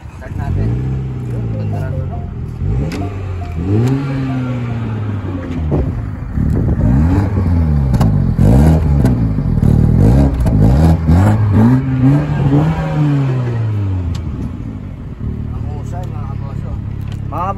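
A 2020 Mini Cooper S Convertible engine starting up and revving repeatedly, loud and close, with rising and falling pitch sweeps as the throttle is blipped, over a steady idle.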